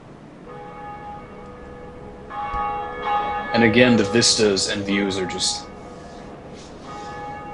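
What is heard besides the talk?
bell ringing in the video game Dark Souls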